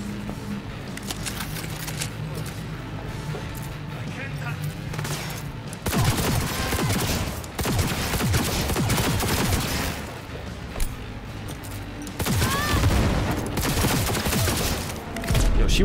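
Gunfire in a Cyberpunk 2077 gunfight, dense rapid bursts of automatic shots in loud clustered volleys separated by brief lulls, close and chaotic with clattering impacts.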